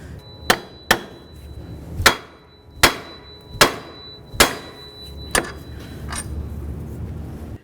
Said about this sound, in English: breaking the outer tie rod end free from the knuckle